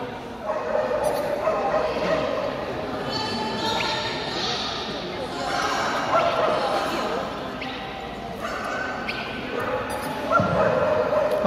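A Pomeranian dog barks and yips in sharp, repeated bursts at an indoor pet show, with people talking around it throughout.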